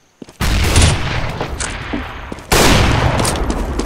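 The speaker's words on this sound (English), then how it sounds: "I'm throwing a grenade" A grenade explosion in Counter-Strike: Global Offensive, heard as a sharp loud blast, then a second heavy bang with sustained noisy rumble, close and dominant.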